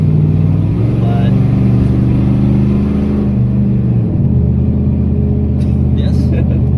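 A low-powered truck engine labours hard at full effort while driving, a steady loud drone running throughout with shifts in pitch as it strains, and voices talking over it.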